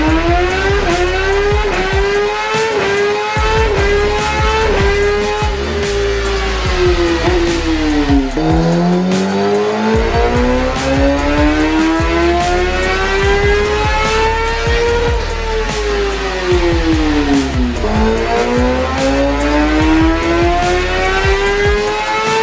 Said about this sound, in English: shoot the last final run so you guys can also get an idea how the quick shifter sounds